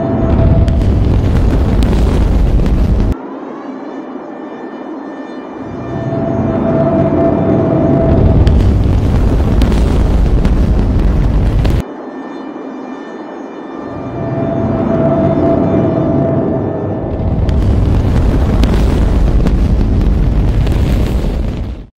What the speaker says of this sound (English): listen to the rumble of the F1 turbopumps from Saturn V first stage